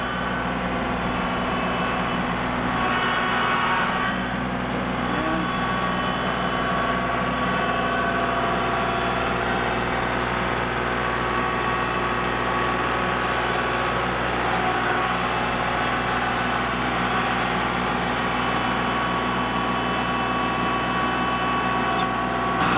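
Heavy Kubota L3901 tractor engine labouring steadily while pulling a Countyline subsoiler through tough soil, a constant mid-low drone with a brief surge early on, no talking.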